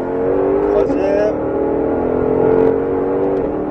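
A Ford Mustang GT500 on a race circuit pulls hard out of a corner, its engine a loud, steady, deep drone heard from inside the cabin, with a brief rising pitch shift partway through as it builds speed.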